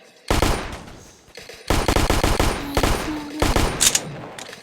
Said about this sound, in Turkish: Silahla vuramıyorum.